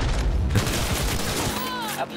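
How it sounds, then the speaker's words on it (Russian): A burst of rapid gunfire from the video game Cyberpunk 2077, a dense fusillade of cracks and booms packed together, loud and continuous across two seconds. "Что за стрельба? Там живой?"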